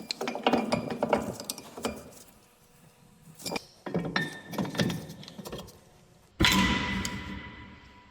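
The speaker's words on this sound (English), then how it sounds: "with old brake pad, I'm just going to press those calipers back to their place" Old brake pad used to press the front brake caliper pistons back on a BMW G30 530e, with a series of close metallic clicks, scrapes and clunks, ending in a louder grinding push near the end.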